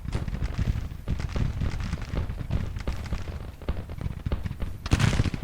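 Dense Civil War musket and cannon fire crackles without a break in the Grand Tactician strategy game, with a louder burst near the end and no talk.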